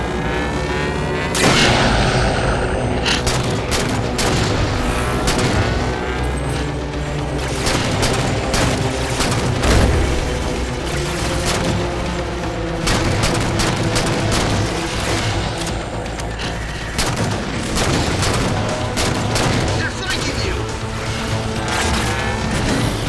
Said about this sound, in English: Those turrets just come online. Crimson didn't do anything. And they're shooting the bad guys instead of us.